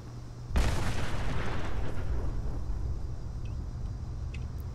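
A grenade goes off in Fallout 76, a sudden loud blast that rolls into a long, fading rumble over steady low game ambience.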